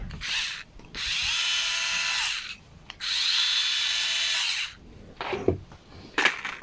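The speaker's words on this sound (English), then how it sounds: "So before you can use a power tool" A handheld power driver spins carburetor screws on a Ryobi RLT26CDSN string trimmer during a rebuild, two sustained whirring runs of a few seconds each separated by pauses, followed by shorter bursts and clicks of the tool.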